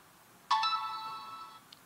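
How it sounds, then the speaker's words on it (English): A phone ringtone sounds once, a bright electronic tone starting abruptly and holding for about a second before cutting off, alone in a quiet room. "This phone been going off the hook."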